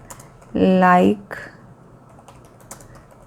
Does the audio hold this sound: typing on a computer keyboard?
yes